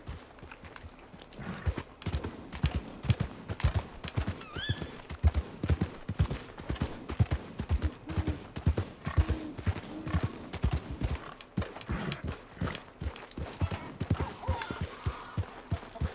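Horse hooves clip-clop steadily in Red Dead Redemption 2, a continuous rhythmic stream of close, moderately loud footfalls over ambient game sound, with a brief whinny-like tone midway and no talk.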